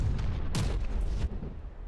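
Big naval guns boom from a battleship in the naval combat game From the Depths, firing armor-piercing shells. Heavy broadband blasts stack into a dense, continuous barrage, with one louder burst near the middle.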